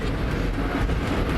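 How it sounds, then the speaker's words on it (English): M1, a biodiesel locomotive of the Mount Washington Cog Railway, comes down the mountain with a loud, steady mechanical rumble and rattle that holds constant throughout, with no voices. "And now here we have a down mountain train coming."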